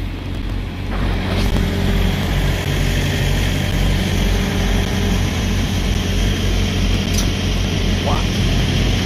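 A truck engine idles nearby in a steady, low rumbling drone, with a few brief clanks and hisses on top and people talking over it.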